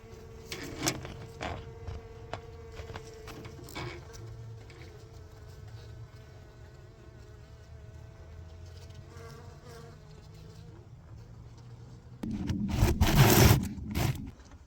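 A steady, low buzzing of honey bees at a hive at night runs throughout, with scraping and rustling growing louder near the end.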